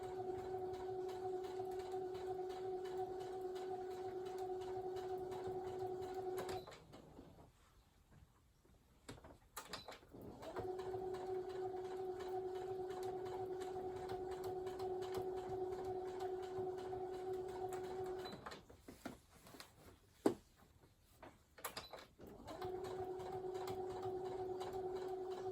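Sewing machine stitching along the edge of quilting on a king-size postage stamp quilt, running in three steady sustained bursts separated by short pauses with faint handling noises.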